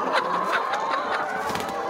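Chickens on a farm kept on a deep litter system cluck and call eagerly while waiting for feed, a busy overlapping chorus of short clucks close to the microphone.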